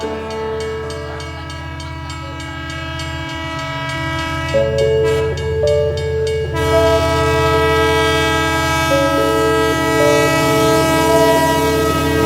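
A train sounds its horn in long, sustained blasts that change pitch partway through, loud and close over the steady rumble of the railway.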